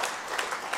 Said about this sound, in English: round of applause, colleagues.